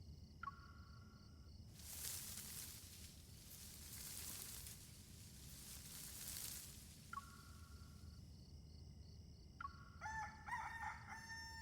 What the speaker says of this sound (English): The rooster already crowed.